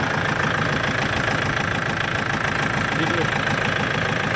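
A tractor engine runs at a steady idle at a long-boat racing fair, with a constant mid-low throbbing rumble and a faint knocking rattle, loud and close throughout.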